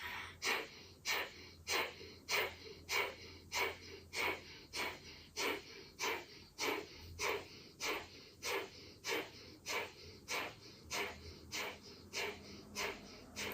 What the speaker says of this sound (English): close the mouth and let the panting breath happen through the nose